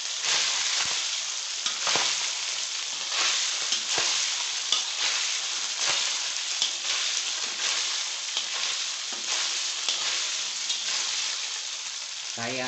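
Continuous sizzling of hydrogel beads frying in oil, with frequent sharp pops and crackles bursting through, close and busy, no one speaking.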